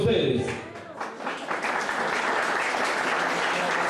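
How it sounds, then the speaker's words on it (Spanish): A festival crowd in a small parish town breaks into sustained, dense applause after a brief stretch of amplified talk, the clapping steady and full for several seconds. "Lo que necesitan es el aplauso de ustedes"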